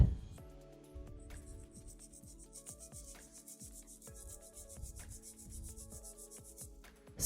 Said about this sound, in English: I will be filing my nail in 5 steps using my long-lasting 180 zebra.